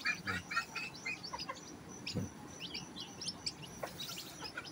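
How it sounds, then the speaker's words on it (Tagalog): Nine newly hatched chicks peep in a rural farmyard, a quick scatter of high, thin chirps repeating close by and fairly faint, with some overlapping calls over a low background murmur. "O siyam na piraso na sisiw. Kakalabas lang sa lagayan niya."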